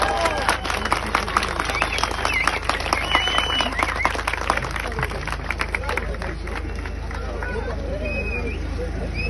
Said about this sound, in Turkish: Bir kez daha alkışlarınızı alabilir miyim burada?